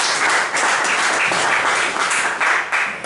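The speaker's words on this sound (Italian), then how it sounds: "Facciamo un applauso." Conference audience applauding in Venice, a dense, steady wash of many hands clapping at moderate loudness for about three seconds, with no voices over it.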